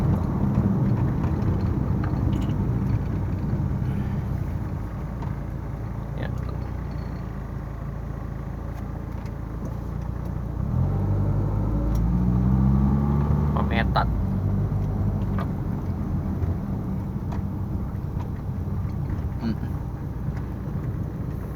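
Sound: Mitsubishi E-Car 4G63 engine idling steadily on LPG

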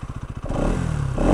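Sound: Bajaj Pulsar 200NS motorcycle exhaust

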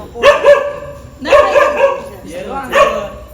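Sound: dog barking

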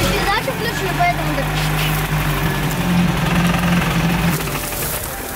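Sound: engine of poachers' vehicle starting then stalling

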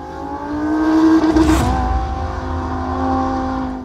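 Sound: Audi R8 V10 Plus sports car V10 engine accelerating

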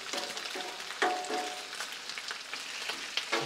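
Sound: bacon sizzling on a Blackstone griddle

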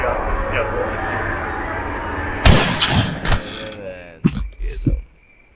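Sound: gunshot in the video game Granny 3

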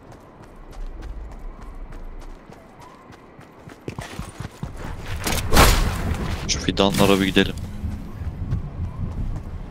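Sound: horse hooves clip-clop in a video game

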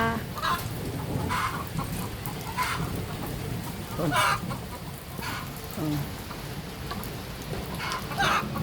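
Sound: heavy rain falling

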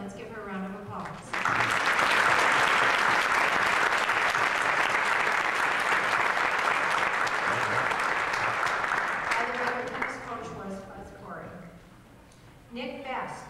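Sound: audience applauding a student athlete

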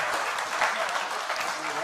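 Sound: audience applause at community meeting

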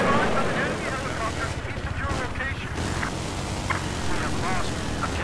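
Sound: helicopter in video game Battlefield 4

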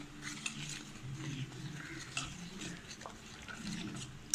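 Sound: stirring Amrutham powder with water in a vessel

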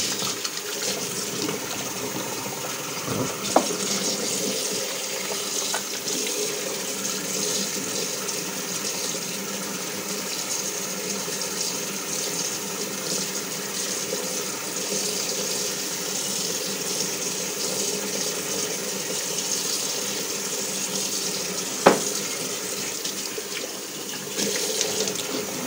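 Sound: tap running while washing face with hot water

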